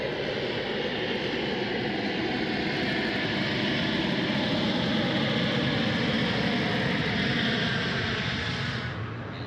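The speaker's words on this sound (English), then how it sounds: "The reverse thrust noise at the moment might be just the cloud." An airliner's engines roar in reverse thrust at Sydney Airport, a loud, steady, broadband rush that holds for the whole stretch and eases slightly at the very end.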